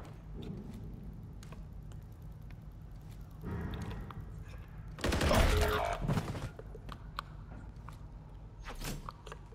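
Gunfire in the shooter video game Call of Duty MW3, a short loud burst of shots around the middle followed by scattered sharper cracks, against quieter game background.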